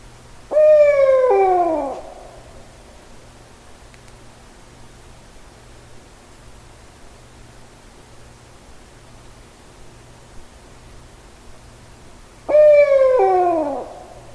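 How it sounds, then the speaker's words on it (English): Two bouts of barred owl calling at night in the woods, each a loud, close series of hooting, descending notes about two seconds long, separated by a long stretch of quiet background hiss. "later that night I got these barred owl calls, just 2 calls right above the audio"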